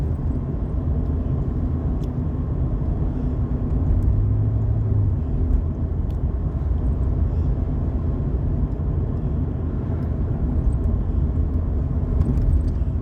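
A 1989 GMC Vandura van drives along, its engine and road rumble a steady, loud, low drone with no one talking.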